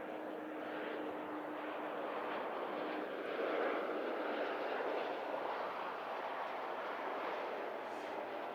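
An Austrian Airlines jet arriving from Vienna at Manchester Airport gives a steady, fairly distant engine roar that swells slightly midway and holds without speech.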